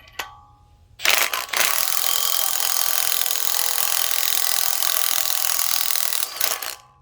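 A ball joint is pressed in while being tightened on a 2006 Ford E-150 XL van, giving a loud, continuous grinding, rasping strain for about five seconds, with a few clanks at the start and end.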